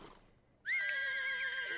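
A horse in The Sims 4 life-simulation game lets out a single loud, high whinny that starts abruptly after near silence and holds with a wavering, descending pitch.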